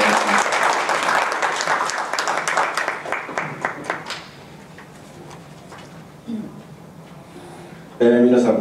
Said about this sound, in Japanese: 石山さんを拍手でお迎えください